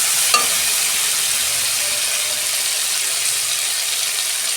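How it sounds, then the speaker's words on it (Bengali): Tomatoes sizzle loudly in a hot pan for a Bengali-style parshe fish dish, a dense continuous frying hiss with a brief stir knock near the start, close and steady without talk. "টমেটোটা আমি ভালো করে কষতে নিয়েছি।"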